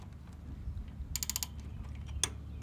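Wrench ratcheting on a Harley-Davidson shifter linkage, a quiet close burst of quick clicks followed by a single sharp metallic tick, with faint handling noise around it.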